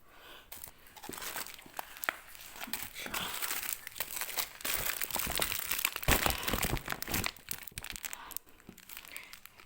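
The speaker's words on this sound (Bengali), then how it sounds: "এগুলো হচ্ছে হলুদ হলুদের প্যাকেটও দুটো বের করেছি" Plastic packets of turmeric and spices crinkle and rustle as they are handled, close and continuous with sharper crackling bursts throughout, and no talking.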